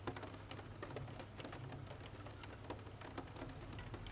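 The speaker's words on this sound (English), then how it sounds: "Endless, soft rain falling patiently through the dark." Soft, steady rain falls through the dark, a dense continuous patter with faint low rumbling that may be distant thunder, with no voices.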